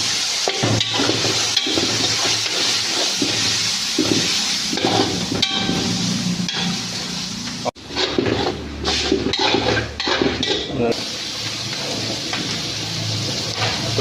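Mutton liver and lungs with green chillies frying in a pan, a steady loud broadband sizzle and hiss throughout, with a brief dip near the middle before the crackling resumes.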